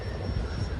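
An E-flite Habu STS RC jet plane flies past, its electric ducted-fan whine a steady, fairly loud drone through a brief moment outdoors.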